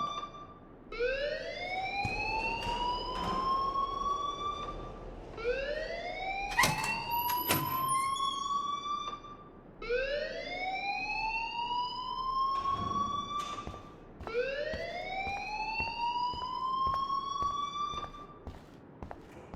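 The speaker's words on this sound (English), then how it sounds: "please turn off that alarm since that's your job" A wailing alarm in the Vampyr video game, sounding as repeated rising sweeps about every four seconds, fairly faint and continuous over background noise.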